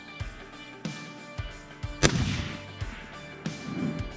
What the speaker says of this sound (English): I'm going to shoot now.